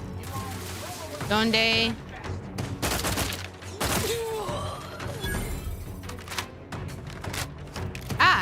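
Suppressing gunfire in a first-person shooter video game comes as loud, dense bursts of shots and impacts, mixed with game effects and music, while voices talk throughout.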